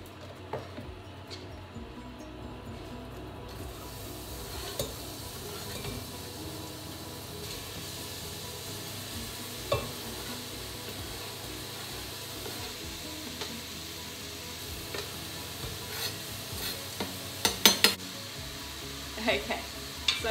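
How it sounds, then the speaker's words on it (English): Onion pieces sizzle in hot oil in a pan during Mexican cooking prep, a steady close crackling hiss with occasional sharper pops and stirring clicks, no talk. "You can hear it sizzling, so that means that it's hot enough."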